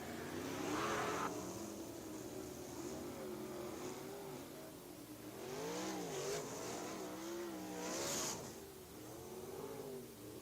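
A USAC race car at Mohave Valley Raceway roars loudly as it accelerates, its engine pitch climbing and falling through repeated revs and passes. Crowd and track noise runs underneath, with no speech.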